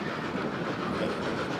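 Narrow gauge passenger train cars rocking along the rails in northern New Mexico, a steady, close rumble of rolling wheels with faint clickety-clack, no voices.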